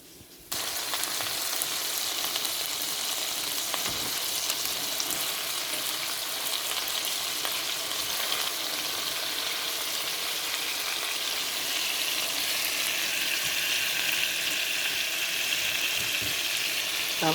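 Cabbage sautés in a hot pan, a loud continuous sizzle and crackle of frying that holds steady throughout, with faint stirring and no voices.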